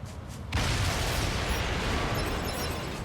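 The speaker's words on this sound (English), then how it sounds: "An explosion." Explosion in NieR: Automata bursts in suddenly after a quiet moment, then rolls on as a broad, steady roar of debris and rumble, moderately loud.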